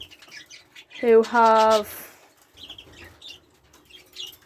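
Baby canaries and adult canaries in a cage, red mosaic birds, give short squawks and chirps with a brief flutter of wings, close and clear, while a person talks over them.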